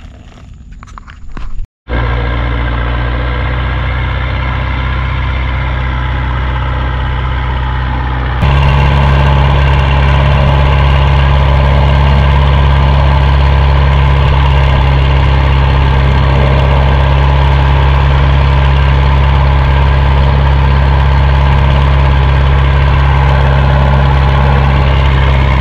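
A boat engine running steadily near Cần Giờ, a loud continuous low drone that jumps louder after a brief quiet start and then holds an even idling rumble.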